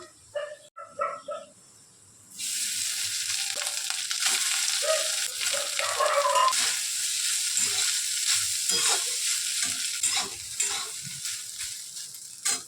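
Jeera rice being stir-fried in a pan, a steady loud sizzle with scraping stirring noises that starts abruptly after a quieter opening and continues throughout; a dog barks near the start.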